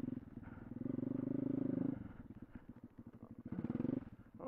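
A pit bike engine revs hard while riding over rutted dirt, its buzzy note rising and falling as the throttle opens, drops off and then climbs again, loud and close.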